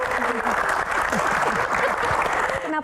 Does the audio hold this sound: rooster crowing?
no